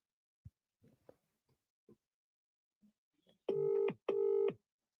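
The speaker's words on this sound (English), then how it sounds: "Can you hear that ringing?" Two long electronic telephone ring bursts sound back to back near the end, preceded by a few faint soft clicks and knocks.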